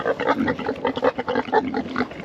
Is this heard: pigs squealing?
yes